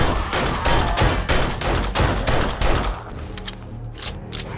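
Rapid bursts of gunfire from a weapon fired at a zombie in the survival game 7 Days to Die, loud repeated shots in quick succession that thin out toward the end.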